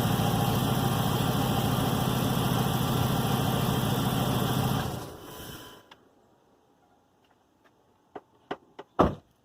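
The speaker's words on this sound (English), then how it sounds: "as you can see, the fan is spinning, everything is right." A 2006 Chrysler 300C AWD engine idling with its new radiator fan spinning, a steady loud whirring drone that winds down and stops after about five seconds, followed by quiet and a few sharp clicks and knocks.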